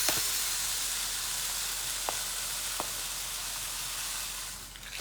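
Epsom salts stirred in a glass jar, giving a faint, steady gritty hiss with two brief sharper clinks against the glass, and no talk.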